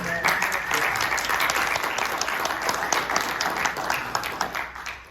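An audience claps steadily in dense, continuous applause that fades slightly toward the end.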